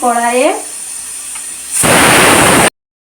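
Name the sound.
marinated chicken frying in mustard oil in a wok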